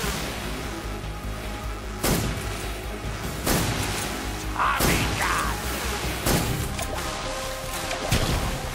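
Grenade blasts and heavy impacts in Metal Gear Solid 3: Snake Eater, with several loud, sharp booms spaced a second or two apart over a constant roar of game noise.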